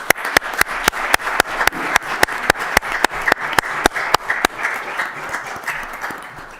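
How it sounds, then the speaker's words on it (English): Audience applause at a city council meeting, about twenty sharp, regular claps that sound like one or a few people close by over a wider room of clapping, fading out near the end. "Can I offer a round of applause for Acting Chief Miguez?"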